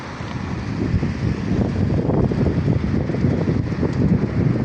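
Steady, broad rumbling wind buffets the microphone throughout, a continuous low roar with no voices.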